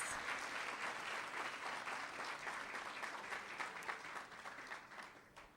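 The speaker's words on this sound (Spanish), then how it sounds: "Quiero de verdad pedir un gran aplauso" Audience applause at a peace and reconciliation event, steady sustained clapping from a crowd heard throughout, fairly distant and even in level.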